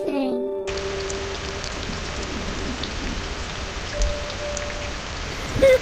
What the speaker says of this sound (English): Rain ruined everything.